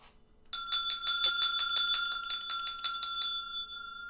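Bright electronic chimes ring from a pinball table, a rapid run of repeated metallic bell tones that decays and fades out after about three seconds.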